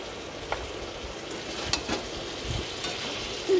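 Jackfruit fries with salt, turmeric and chili powder under a soft constant sizzle, with scrapes and light knocks as it is stirred, and no talking.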